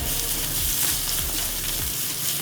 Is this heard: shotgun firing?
no